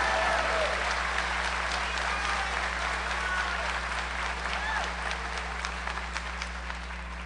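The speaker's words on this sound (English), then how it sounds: "Would you please give a round of applause to the construction class of 2018." Sustained applause from the audience at a senior recognition ceremony for a construction class, a dense crowd clapping steadily throughout and slowly thinning toward the end.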